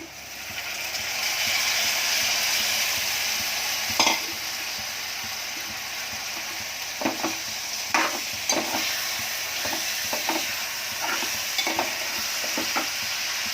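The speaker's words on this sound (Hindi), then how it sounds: "ज़रा 5 मिनट प्याज में तलूंगी" Dried prawns fry with onions in a pan, giving a steady loud sizzle with sharp scraping clicks from stirring every second or so.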